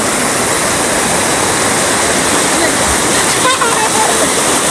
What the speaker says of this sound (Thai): น้ำไหลมาก